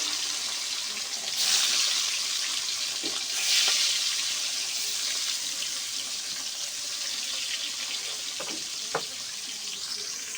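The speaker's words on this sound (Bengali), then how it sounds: "কড়াইটা গরম হয়ে গেছে, এবার মাছগুলো ভেজে নেব এক এক করে।" Rui fish frying in a hot wok, a loud continuous hiss and crackle of oil with occasional soft knocks from handling the pieces.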